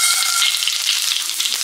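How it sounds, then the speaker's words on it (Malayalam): Mustard seeds splutter and pop in hot coconut oil in a pan, a dense close-up frying crackle with no voices. "പാൻ ചൂടായതിന് ശേഷം വെളിച്ചെണ്ണ, എണ്ണ നല്ലോണം ചൂടായതിന് ശേഷം ഒരു സ്പൂൺ കടുക്"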